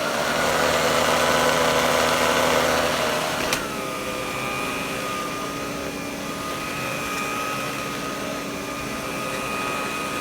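A vintage Electrolux vacuum power nozzle fitted with a brand new brush runs with a steady motor whine and rumbling vibration, its pitch dropping and settling after a brief clatter partway through, with no voices.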